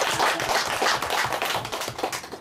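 Lively applause at a Korean cultural discussion forum, many hands clapping close and loud with a bouncy, rhythmic pulse that keeps going throughout.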